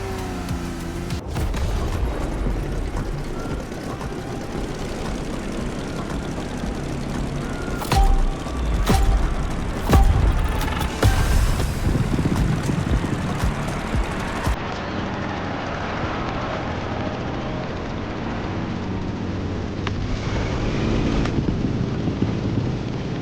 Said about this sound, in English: Get ready to meet a United States Marine Corps aviation legend, the Transport F4U Corsair. Immediate takeoff.